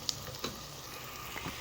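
Onions frying in oil as the base for Egyptian stuffed cabbage, giving a steady, quiet sizzle with a few soft crackles and pops, with no voices over it.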